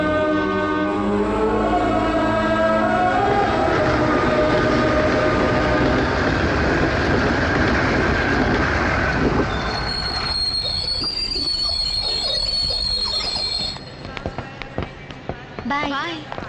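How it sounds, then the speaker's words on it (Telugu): A train pulls into a station with loud, sustained rumbling and long high-pitched wheel squeals, fading in the last seconds into scattered clanks and quieter noise. "ట్రైన్ వచ్చేసింది పద"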